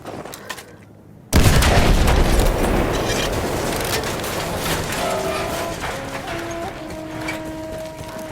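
A train arriving in a World War I Battlefield game level, with a sudden loud burst of rumbling, clattering noise and scattered sharp bangs that carries on steadily, with sustained whistle-like tones emerging in the later part.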